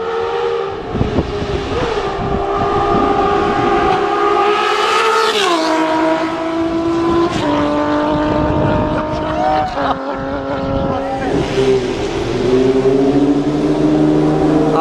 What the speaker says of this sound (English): the CBX 1050 in terms of the exhaust note